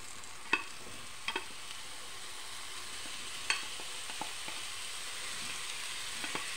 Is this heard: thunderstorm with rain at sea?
no